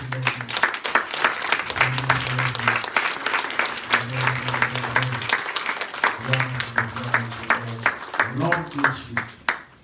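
A church congregation applauds continuously while a voice speaks loudly in French over the clapping.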